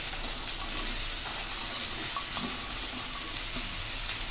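Okra (ladies finger) frying in a pan, a close, steady sizzle with faint stirring scrapes mixed in, continuous throughout and without any talking.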